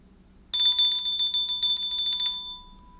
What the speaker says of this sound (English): I'll ring the bell for that one.